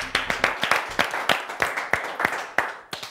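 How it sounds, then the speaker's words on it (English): A small group of children claps for a quiz team in a studio, about a dozen distinct, fairly sharp claps in an uneven rhythm, close and moderately loud. "Let's clap for them."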